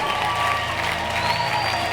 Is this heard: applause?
yes